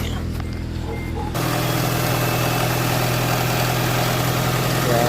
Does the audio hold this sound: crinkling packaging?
no